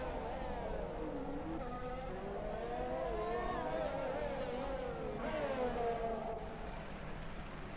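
A Formula 1 car accelerates hard out of the pits at the Azerbaijan round, its high engine whine sweeping up through the gears with rising and falling pitch over a steady broadcast background.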